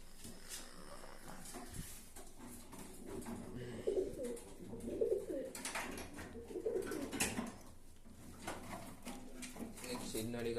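Pigeons in a home loft coo in low, repeated throaty bursts, fairly close, with a steady background murmur and occasional clatter; a person speaks nearby between the calls.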